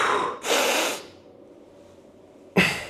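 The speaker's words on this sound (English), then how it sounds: "If you hear my nose here, I'm just breathing through it." Heavy nasal breathing during a core bracing exercise, with two forceful sniffs close to the microphone, a quiet pause, then a sharp snort-like inhale.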